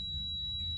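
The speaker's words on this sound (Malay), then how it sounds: "Set pada buzzer, lepas tu kita check satu." A multimeter on continuity-buzzer setting, probing the wiring of a washing machine control board, sounds a single steady high-pitched tone that holds unbroken through the moment over a low electrical hum.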